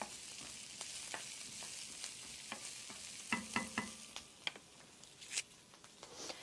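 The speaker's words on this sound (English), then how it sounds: "I want to stir this to make sure they don't burn." Kale greens stirred in a frying pan over medium-high heat, with a steady sizzle under a series of scraping and clattering stir strokes, close and moderately loud.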